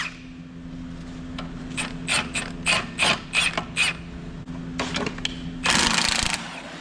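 A socket wrench ratchets on bolts of a Warn winch being restored, giving several quick clicking bursts, then a longer, louder run of rapid ratcheting near the end over a low background hum.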